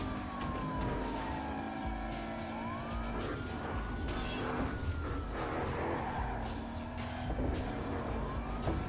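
A car drives and drifts through the streets in the video game Battlefield Hardline, its steady engine drone mixed with wailing siren tones and faint tyre noise, continuous throughout with no speech.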